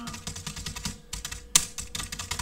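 Rapid, uneven clatter of keys on a computer keyboard, typed in quick bursts with a short pause midway and one louder keystroke, close and clear with no speech.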